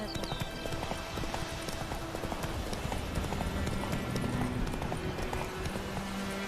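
Roach, the horse in The Witcher 3, trots steadily with rhythmic clip-clop hoofbeats close by, under a constant bed of game ambience with a brief snort near the start.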